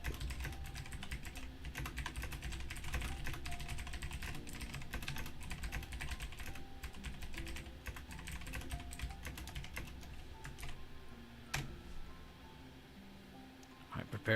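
Rapid typing on a computer keyboard clicks continuously, close and moderately quiet, with a dense patter of keystrokes over faint background hum and a few sharper isolated taps near the end.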